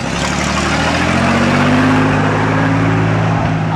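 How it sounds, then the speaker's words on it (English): A large fire truck engine roars loudly and close during a fire muster parade, revving with a rising, rumbling drone that holds steady throughout. "all the different sounds of a fire truck"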